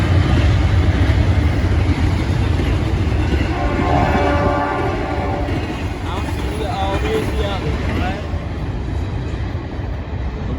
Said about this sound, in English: A CSX because we hear the horn